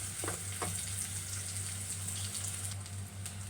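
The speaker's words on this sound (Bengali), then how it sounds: "এই পর্যায়ে কিন্তু আমার পেঁয়াজটা ভাজা হয়ে গেছে" Onions sizzle and crackle steadily in hot oil in a pan while preparing a Rita fish dish, a continuous close frying hiss with a steady low hum underneath.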